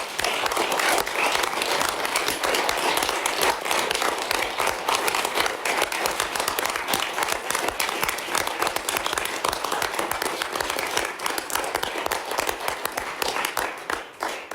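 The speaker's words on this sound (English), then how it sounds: "I think that deserves a round of applause." Sustained audience applause at a university board meeting, loud, dense clapping continuing steadily for over ten seconds before easing slightly at the end.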